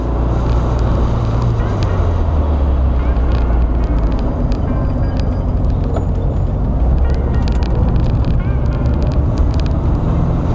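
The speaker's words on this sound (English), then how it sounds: "this is a nice cruiser. Running good. Idling fine." A 1972 VW Karmann Ghia engine runs steadily, a loud, close, continuous low rumble with a broadband hiss of wind and road noise on top. A few light clicks and taps sound over it, with no talking.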